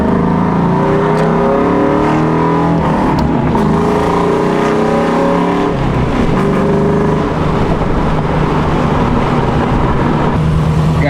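A Ford Mustang GT V8 engine droning loudly and continuously from inside the car while driving, its pitch rising and falling through several shifts and revs with no talk over it.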